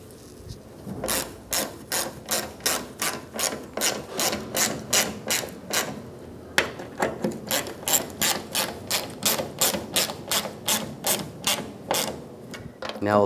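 A hand ratchet runs bolts into the fuel pump of a 1996–2002 Toyota 4Runner, clicking in steady, even strokes of about two per second, with a brief pause partway through.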